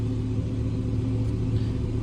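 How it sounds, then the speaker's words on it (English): A Porsche Macan rolls in with a steady low engine rumble and road noise, a continuous close hum that holds even throughout with no talking. "Oh, that's just arrived as well. Porsche Macan."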